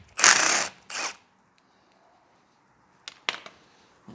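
A ratchet loosens bolts on the top engine cover of a GSR-swapped Honda Civic EG hatch. It gives a couple of close, loud rasping bursts, a quiet pause, then a few shorter clicking bursts.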